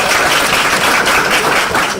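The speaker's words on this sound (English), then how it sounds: "Give me a round of applause." A crowd breaks into audience applause, a dense wash of clapping that holds steady and loud throughout.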